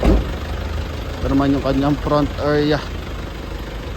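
Diesel engine of a seven-seater vehicle idling, a steady low rumble running continuously beneath someone talking close by.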